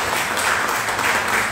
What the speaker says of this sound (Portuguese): Você pode aplaudir ao Senhor bem forte